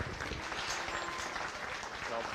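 A crowd claps steadily at a county fair beef show honoring cow-calf pair exhibitors, a dense continuous patter of applause from the stands at moderate volume, with voices mixed in.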